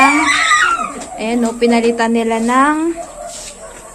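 A dog whines and whimpers in rising, wavering cries up close, with a person speaking over it.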